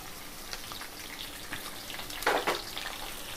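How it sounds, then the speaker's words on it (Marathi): Onions frying in a pan with green chillies and garlic for a moringa leaves vegetable dish, a soft steady sizzle with a brief louder crackle burst near the end. "या स्टेजला मी लगेच कांदा टाकते."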